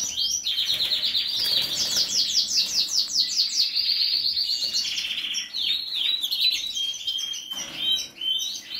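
Captive show birds kept as breeding pairs chirp and twitter close by in rapid, overlapping high-pitched trills and tweets, steady and lively throughout with no talking.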